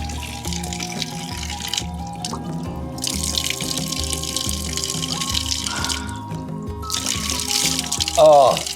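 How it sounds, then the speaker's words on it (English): Cool mountain water splashing and running in a forest stop near Frasha, a steady watery gush with splashes and trickles, faint talk briefly under it. "Cool mountain water. It's so fresh."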